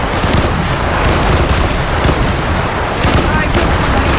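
An airstrike in a GTA video game sets off a loud, sustained roar of explosions with dense rumbling bursts throughout, while voices talk underneath.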